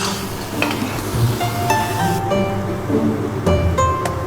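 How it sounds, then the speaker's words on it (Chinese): Chicken hearts are stir-fried in a wok with cumin and chili powder, loud close sizzling over constant scraping and clinking of the spatula against the metal, with brisk irregular stirring strokes. "炒香，下入孜然，炒出孜然的香味啊，下入鸡心、辣椒面"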